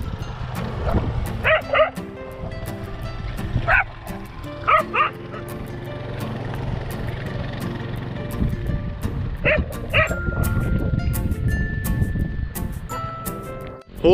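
Several dogs bark in repeated bursts, with yips and whimpers between them, some close and some further off, over a low rumbling background and a passing vehicle.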